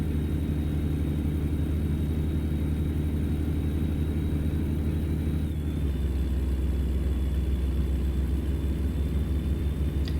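A heavy-haul truck engine at full throttle in American Truck Simulator makes a steady, loud low droning rumble, its pitch shifting slightly partway through.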